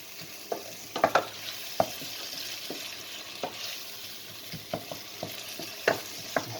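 Mustard seeds, chilies, fenugreek and turmeric fry in hot oil for a Sri Lankan curry, a soft steady sizzle broken by scattered pops and occasional spoon scrapes and stirring knocks.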